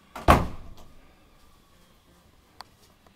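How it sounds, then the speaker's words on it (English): A house side door leading onto a side porch opens with a single sharp, close knock-and-swing sound, a fainter creak trailing off behind it and a small click a couple of seconds later. "I'm gonna take you through the side door into the side porch."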